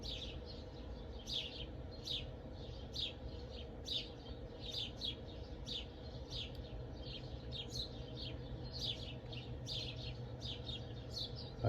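Many birds chirp and tweet in short repeated bursts near a bird sanctuary outdoors, the high calls steady over a low ambient rumble, with no talking.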